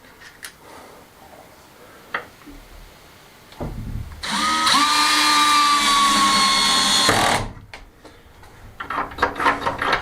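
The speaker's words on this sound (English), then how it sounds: "You set your torque setting on your drill, it saves you rounding the edges off" A power drill drives screws into a handmade wooden door, one steady whirring run of about three seconds after a short start, with quiet clicks and handling before and after.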